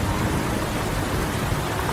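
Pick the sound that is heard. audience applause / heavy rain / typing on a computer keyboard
heavy rain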